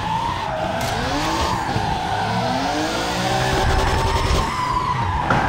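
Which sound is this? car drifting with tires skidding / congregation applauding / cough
car drifting with tires skidding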